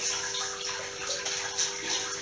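Heated sparge water draining during a Grainfather home brewing session, a steady close trickle and splash of running water with faint irregular clicks.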